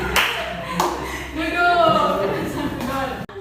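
A group in a classroom math counting game claps hands in brief bursts amid lively talking and chatter, the claps mixed under voices throughout.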